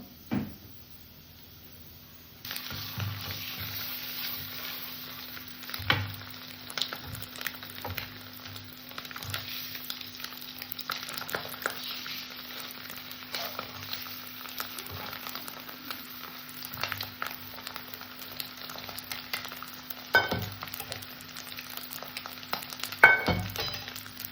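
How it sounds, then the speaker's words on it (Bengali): An egg fries in a little mustard oil in a wok on a gas stove, giving a faint, steady sizzle over a low hum, broken by occasional soft clicks and knocks from the cookware. "ডিমটা ভাজা হয়ে গেছে আমি এবার নামিয়ে নেব"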